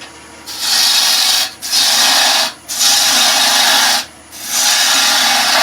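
A gouge cuts waste wood from a salt and pepper mill blank spinning on a wood lathe, making loud hissing scrapes in four long passes separated by short pauses.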